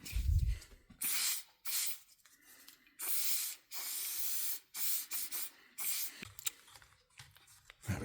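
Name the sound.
spraying lubricant onto a gear selector seal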